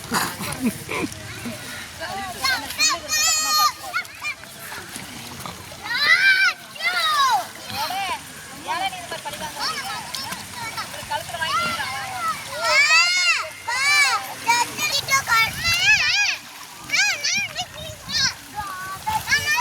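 Water splashes repeatedly as a person swims, in bursts of choppy sloshing, with lively voices, including children's, talking over it throughout.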